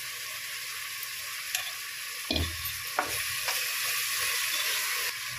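Ginger-garlic paste and curry leaves frying in hot oil in a pan, a bright continuous sizzle broken by a few sharp crackles and a spoon knocking on the pan near the middle; no voices.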